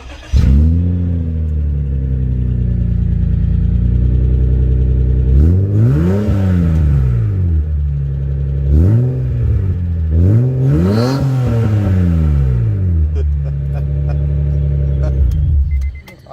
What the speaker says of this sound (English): now it's time to hear a real car turn on